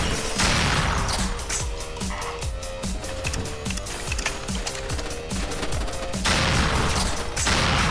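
Steady rapid-fire shooting from the player's gun in a video game, a loud, continuous mechanical rattle of evenly spaced shots lasting several seconds.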